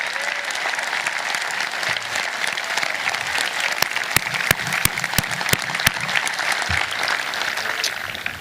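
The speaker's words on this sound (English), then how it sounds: "I'd like to offer him one more round of applause that he can hear from the bus to boot camp" Applause at a high school graduation ceremony, a sustained crowd of clapping hands in a large hall with several sharp, loud individual claps standing out near the middle.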